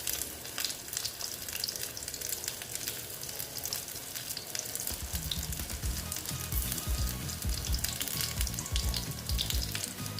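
Ridge gourd fritters fry in oil with a continuous bright sizzle and dense crackling. Partway through, lower bubbling joins the hiss and it grows busier. No one speaks.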